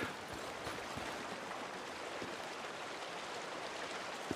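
Creek water rushes continuously in the video game Days Gone, a steady broadband outdoor flow at even volume, heard alone without talk.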